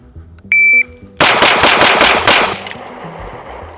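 Rapid 9mm +P defensive pistol rounds fired at a shooting range after a loud shot-timer beep: five sharp, evenly spaced cracks in quick succession, then a brief pause before one fainter final shot.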